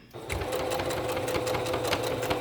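A sewing machine runs steadily stitching fabric for a fitted kids' face mask, its fast even mechanical whir loud and close, continuous with no talk.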